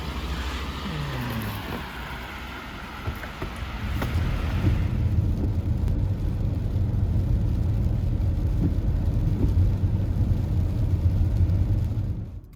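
A vehicle drives through Medyka at the Poland–Ukraine border before parking, a steady low engine and road rumble that swells after a few seconds and then cuts off abruptly at the end, with no talking.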